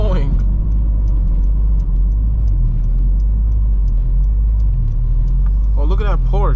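A 600-horsepower Honda Civic Si engine drones steadily from inside the cabin while driving, a loud constant low rumble with voices talking briefly at the start and end.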